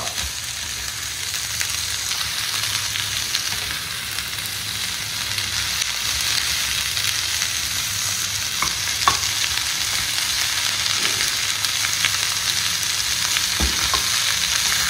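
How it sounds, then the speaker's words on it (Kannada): Pork chilli with capsicum frying in a pan over a medium flame, a steady close sizzle with faint stirring scrapes running throughout and no voices. "ಮೀಡಿಯಂ ಫ್ಲೇಮಲ್ಲಿ ಇಟ್ಕೊಂಡೆ ಇದನ್ನು ನೀವು ಒಳ್ಳೆಯ ರೀತಿಯಲ್ಲಿ ಫ್ರೈ ಮಾಡಿಕೊಳ್ಳುವಂಥದ್ದು"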